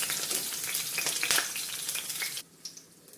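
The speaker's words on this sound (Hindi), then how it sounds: "इस तरह से इनको 1 से 2 मिनट हमको फ्राई कर लेना है ऑयल में।" Okra (lady finger) frying in hot oil in a kadai gives a busy, bright, steady sizzle and crackle that stops abruptly, followed by a few faint clinks.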